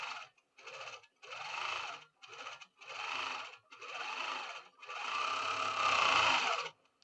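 A Handi Quilter longarm quilting machine stitching in short bursts, about eight whirring runs separated by brief pauses, the final run longest and loudest.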